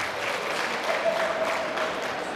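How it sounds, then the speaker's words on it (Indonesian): Steady applause from an audience at a religious gathering in Kolaka Timur, honouring the regent, dense and continuous throughout with a faint tonal hum running underneath. "Tepuk tangan dulu untuk Bapak Bupati,"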